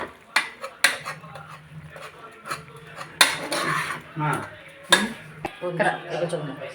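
Ginger garlic paste being stirred in a cooking pot for mutton biryani, with irregular scraping and clinks of a metal spoon against the pot, fairly close, over a steady low background hum.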